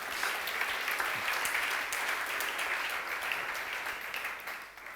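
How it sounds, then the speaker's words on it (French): Church congregation applauding during a sermon, a steady, even wash of clapping from many hands that holds throughout and fades slightly at the end, with no talking. "Est-ce qu'on peut acclamer pour la parole?"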